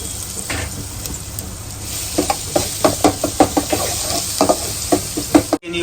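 Ginger, garlic and chili paste hits hot oil with mustard seeds and cumin, giving a steady close sizzle and hiss. Knocks of a spoon stirring the pan punctuate it, with no talking.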